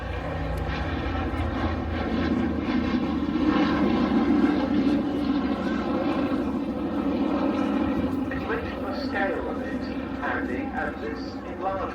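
The B-17 bomber Sally B flies overhead at an air show, its propeller engines giving a sustained, rumbling, fairly loud drone, while a commentator talks over it.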